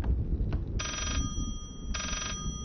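A telephone ringing in the horror game Layers of Fear, two electronic ring bursts about a second apart over a low rumbling background.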